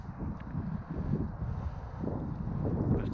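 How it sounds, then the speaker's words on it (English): Wind blowing by the Warwickshire Avon while fishing for chub, a steady low rumbling buffet of gusts against the microphone throughout, with no talk. "It is a little bit windy today,"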